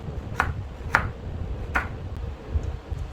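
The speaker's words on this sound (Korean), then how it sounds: "딱 고정시켜서 안전하게 썰어 주셔야 됩니다" Knife slicing a carrot on a cutting board, cut into thin rounds while held steady by a hand-cut flat base: three sharp, distinct chops spaced about half a second apart over a faint background hiss.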